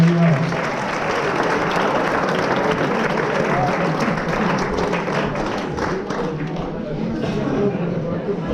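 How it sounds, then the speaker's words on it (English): An audience at a soccer school celebration evening applauds the young players, a dense, steady roar of clapping that holds at full strength for the whole stretch with no voices breaking through. "Big round of applause for our heroes."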